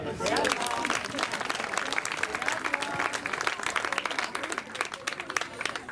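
An audience bursts into applause, many hands clapping in a dense, sustained patter that carries on for several seconds, with some voices mixed in.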